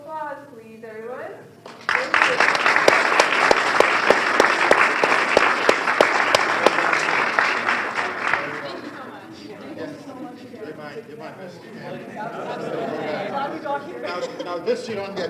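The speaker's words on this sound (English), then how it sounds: "Okay, round of applause, please, everyone." A 2023 Milgard Invitational case competition audience on social responsibility bursts into loud, dense applause for several seconds, then fades into crowd chatter and murmuring voices.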